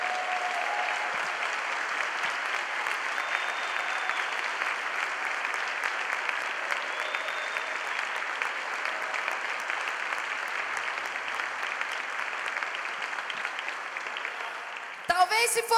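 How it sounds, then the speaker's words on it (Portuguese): A church congregation applauds during a Portuguese-language sermon, a steady wash of clapping holding evenly for about fifteen seconds before a louder burst near the end. "Você pode aplaudi-lo nessa manhã?"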